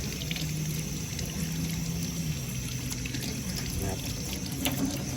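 Water runs and sprays steadily while a motorcycle is washed, a continuous near hiss of water that lasts throughout, with faint voices in the background.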